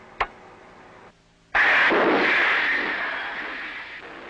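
A torpedo is fired from a tube aboard a U.S. nuclear submarine: a sharp click, a short lull, then a loud sudden whoosh and rush of air and water that slowly fades.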